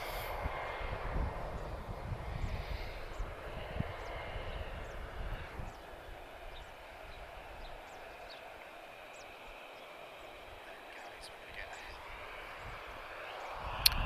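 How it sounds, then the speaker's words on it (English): A heavy jet airliner departing Lisbon Airport, a broad engine roar that is loud at first and then fades into the distance, with voices talking faintly in the background. "And then guys, we're going to get a heavy departure."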